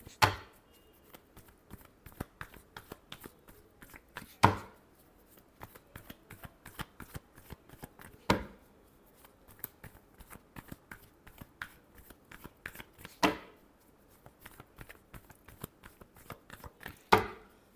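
Tarot cards being shuffled by hand, a steady run of soft riffling flicks broken every few seconds by a sharp, louder slap as the deck is squared, close and clear with no voices.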